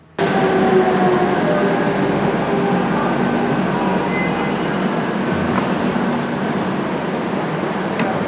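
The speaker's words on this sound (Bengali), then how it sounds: "মাদ্রিদের মেট্রো দেখাই আপনাদের" A Madrid metro train rumbles steadily from inside a carriage, a continuous moderate roar with faint rattles and a slight drop in level near the end.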